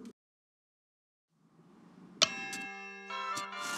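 Bells ring in The Hunchback of Notre Dame interactive CD-ROM game, a sharp struck tone followed by sustained, overlapping bell chimes after a quiet gap.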